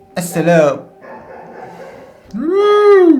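A dog gives two short bursts of high, yelping barks close by, separated by a quieter pause.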